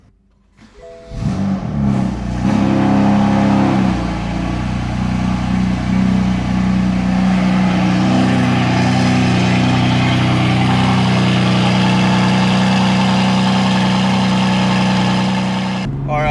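A BMW M3 on a cold start: the engine fires after a brief crank and settles into a loud, steady idle that holds alone for the rest of the clip.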